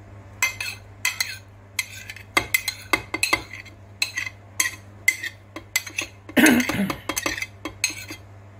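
Onion being mixed in a metal pan for a poultry-offal gratin, with a string of close spoon-on-pan clinks and scrapes in an irregular rhythm over a low steady hum.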